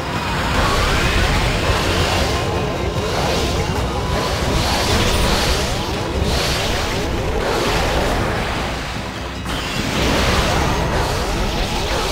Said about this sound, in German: Und Wind bitte!